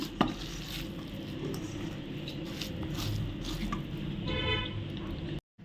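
Sweet corn snack dough is worked together with rice flour, a quiet, steady, moist squishing and rustling of mixing with a few faint knocks.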